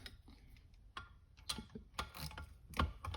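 A 3/8-inch deep socket ratchet clicks while removing the assembly from a Motorcraft 4300D four-barrel carburetor, giving a series of close, uneven ratcheting ticks and metallic knocks.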